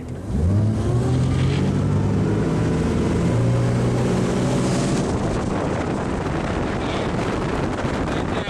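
A 2006 Crownline 230 LS engine revs up and climbs in pitch as the boat speeds up onto plane, with loud wind buffeting the microphone and rushing water throughout.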